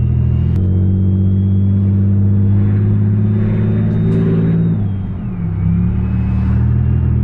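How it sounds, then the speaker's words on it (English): A Chevrolet Impala LT 3.9L V6 with a straight pipe exhaust idles with a deep, loud rumble, briefly revving and settling back into a steady throaty drone. "I'm gonna let y'all hear the exhaust real quick"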